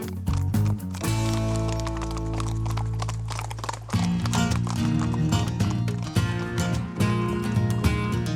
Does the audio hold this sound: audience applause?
no